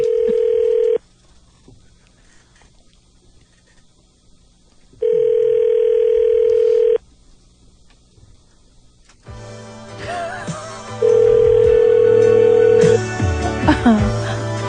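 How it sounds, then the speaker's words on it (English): A telephone call ringing unanswered, with two long steady ringback tones separated by silence, followed by a busier stretch carrying another tone and background noise, heard clearly through the phone line. "He's not going to pick up his phone?"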